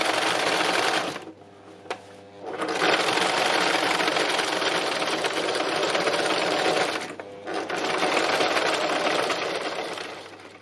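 A sewing machine doing free machine embroidery runs in a loud, steady, rapid whir, stopping briefly twice before starting up again at a constant pace.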